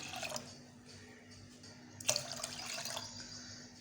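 Water is poured into a pan of soaked moong dal for Sindhi-style dal, making soft trickling and splashing with a brighter gush midway, fairly quiet and close.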